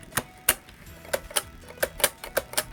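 The shutter of a film camera that takes 120 film clicks sharply several times at irregular intervals, each click crisp, close and fairly quiet in a still room.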